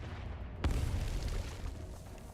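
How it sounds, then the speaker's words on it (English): A cannon shell explodes in the video game Arknights, one sudden sharp boom that cuts through a low ambient hum, then a rumbling tail that slowly fades. "Cannon shells fall like thunder, exploding in the middle of the crowd."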